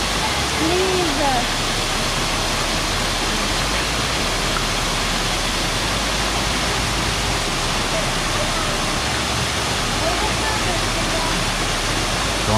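Waterfall splashing into an elephant enclosure at the St. Louis Zoo, a steady broadband rush of falling water running unbroken throughout, with faint voices now and then.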